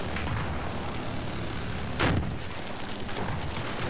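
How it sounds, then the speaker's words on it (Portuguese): An anti-aircraft gun fires in the Battlefield 4 video game, one sharp loud report standing out midway above a dense, steady wash of battlefield noise. "Antiaéreo ali, ó."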